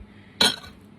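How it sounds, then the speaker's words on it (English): A single sharp metallic clink of two kitchen knives struck against each other, brief and close, ringing bright for a moment before fading into quiet. "2 knives go against each other like that, turn it around"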